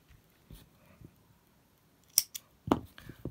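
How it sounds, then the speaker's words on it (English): Scissors snip through crochet yarn, two or three quick, crisp cuts close by in an otherwise quiet setting, with a few faint handling sounds before them. "we're going to cut this yarn now"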